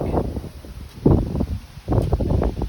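Outdoor wind gusts buffet the microphone in bursts of low, rushing rumble, loud and close, with brief lulls between gusts.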